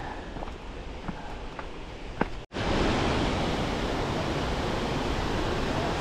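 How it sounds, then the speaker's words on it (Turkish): A waterfall in Güver Canyon gives a steady broad rushing noise, quieter at first with a few footstep knocks, then after a brief dropout the roar comes in fuller and louder and continues unbroken. "Şelaleye geldik."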